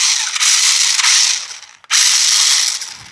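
An RC rock crawler's geared drivetrain, switched on a micro switch with no brake, whirs loud and steady, cuts out abruptly for a moment, then snaps straight back into a second run in reverse.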